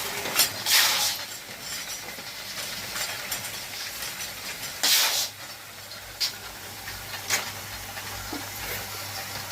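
A puffed rice roasting machine with a set of four kadai pans gives off a steady broadband hiss with a low mechanical hum beneath, broken by several louder spraying bursts and occasional faint metallic clinks, with no talk.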